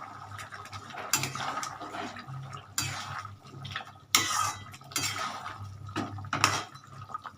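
Rice being stirred over rohu fish heads in a cooking pot for muri ghonto, heard as intermittent metal scrapes and clanks of a spoon against the pot with soft wet shuffling between them.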